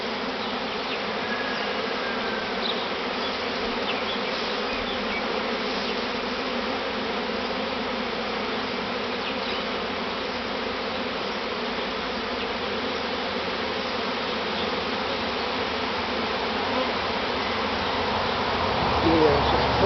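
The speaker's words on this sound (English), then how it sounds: "Yeah, it's just full of bees." A large swarm of bees fills the air with a dense, continuous buzzing hum that stays loud and even throughout, swelling slightly near the end as more bees come close.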